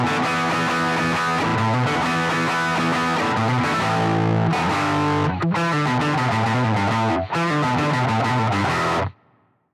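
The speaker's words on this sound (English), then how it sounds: "The first tone is my crunchy distortion tone," Electric guitar through a Telecaster humbucker with a crunchy distortion tone from Pod Farm plays loud chugging chords and riffs with brief gaps, then cuts off abruptly near the end, heard alone.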